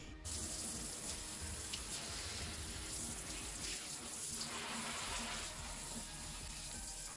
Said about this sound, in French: je vais arroser tout ce petit monde